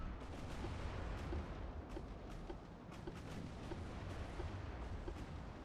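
Naval artillery in the Ultimate Admiral: Dreadnoughts naval battle game gives a steady, dense roar with repeated distant booms and thuds rolling underneath, fairly faint and continuous throughout.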